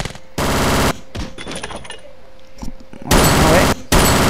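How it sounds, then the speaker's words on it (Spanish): Bursts of automatic gunfire crackle in the Ravenfield video game, with two long loud volleys framing scattered quieter shots, distant pops and clatter in between. "Ahora sí es demasiado fuego enemigo."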